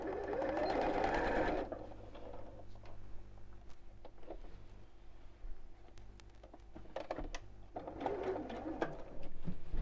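A sewing machine stitches a scallop-topped gift bag, starting with a loud steady whir that pauses through a quiet stretch and then resumes. Pigeons coo softly in the background.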